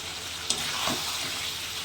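Prawns coated in a rice flour and gram flour batter fry in hot oil with a steady, soft sizzle and one brief crackle near the start.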